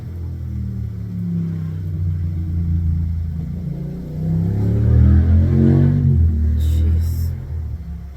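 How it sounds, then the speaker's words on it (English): Loud motorcycles roar past outdoors, a low rumbling engine drone that swells and peaks as they go by, with some faint talk mixed in. "Gotta love those loud motorcycles."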